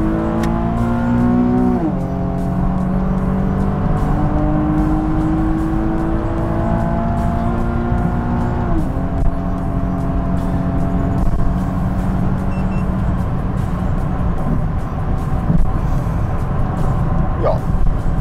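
A Nissan 370Z with an Invidia Gemini exhaust and sports cats accelerates hard through the gears, its engine note climbing loudly with a few clear shift drops, while someone talks over it.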